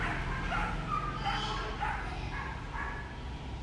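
Belgian Malinois puppies bark, yip and whimper in a busy overlapping chorus, steady and fairly loud throughout, with some voices mixed in.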